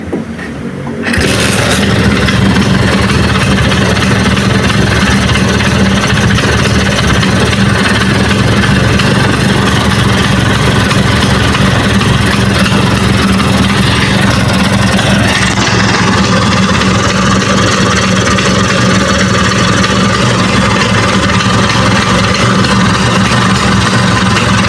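A Vespa Sprint scooter engine is restarted and settles into a steady, loud idle, its low running drone continuous and close with no talk over it.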